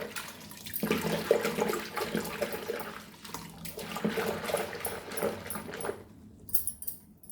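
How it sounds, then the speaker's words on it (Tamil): Tamarind being mixed into a bowl of water by hand, giving a steady wet sloshing and swishing that runs nearly continuously and close by, then eases off near the end. "நல்லா கையை வச்சு கலக்கி அந்த புளியும் நல்லா கரைச்சி விடுங்க"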